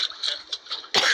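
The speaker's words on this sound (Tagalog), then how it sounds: "Uso kasi ang ubo, kaya nakiuso na naman ako." A single sharp cough bursts out near the end, loud and close, after a stretch of faint hissy background with soft murmurs.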